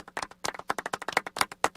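Quiet golf clap from a small group at a sports radio show, a brief scattered patter of soft hand claps, about a dozen in under two seconds, with no voices over it.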